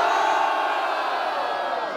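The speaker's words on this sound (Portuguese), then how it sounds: "Barulho para as rimas de Prado" Dense, steady cheering and shouting from a packed rap battle audience in Grajaú, Brazil, filling the whole two seconds at close, loud level without pause.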